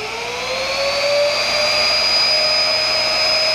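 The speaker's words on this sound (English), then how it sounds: "So we're going to turn this on. It's a regular 110 volts." A Hybco Precise Super 65 high-speed grinding spindle running on 110 volts winds up with a rising whine, then settles into a loud, steady high-pitched electric scream with layered tonal harmonics and airy rushing.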